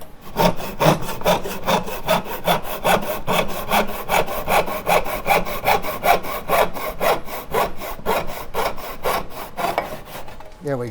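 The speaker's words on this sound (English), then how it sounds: "it's my tenon saw, but I'm going to use it to cut this" A hand tenon saw cuts through a piece of wood in fast, even back-and-forth strokes, close and loud, with a steady rasping rhythm for the whole stretch.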